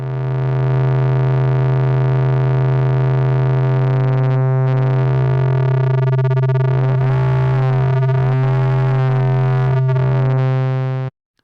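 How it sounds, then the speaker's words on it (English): A synthesizer drone with phase distortion, a steady buzzing tone whose harmonics sweep and warble as the detuned modulation shifts, ending abruptly. "so that's phase distortion"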